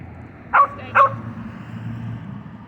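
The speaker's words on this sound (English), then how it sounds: "He won't stop this stupid barking." A dog lets out two sharp, close barks about half a second apart, followed by a low, steady background rumble.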